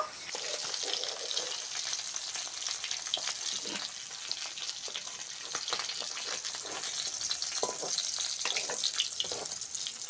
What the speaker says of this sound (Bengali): মাছগুলো খুব সুন্দর লাল লাল করে ভেজে নিয়েছি